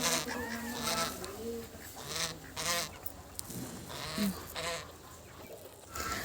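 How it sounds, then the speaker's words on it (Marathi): Chickens clucking and squawking nearby, several birds calling in bursts over a low outdoor background. "मम्मी कोंबड्यांना खाऊ टाका लागलेले आहे"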